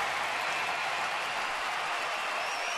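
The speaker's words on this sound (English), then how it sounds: "Crowd looking for some offense here, making some noise." Crowd noise at a Major League Baseball stadium during a Braves at Nationals game, a constant distant roar of cheering and clapping, fairly faint and even throughout.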